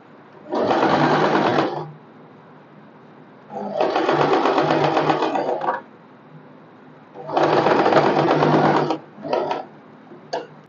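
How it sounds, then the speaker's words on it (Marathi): A sewing machine runs in three long bursts of about one to two seconds each, then a short stutter, pressing stitches on an umbrella frock. The close mechanical whir is loud and clear, with no talking. "अशा प्रकारे मी इथे दाब शिलाई मारून घेतलेली आहे."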